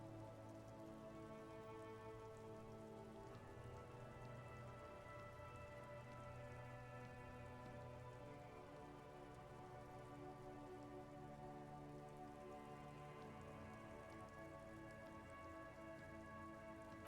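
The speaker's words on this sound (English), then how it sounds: "Rain falls down on the world." Steady rainfall in the video game Disco Elysium, falling over a grey city by the water, a dense, even wash of drops that holds constant for the whole stretch alongside a low tonal ambient drone, with no voices.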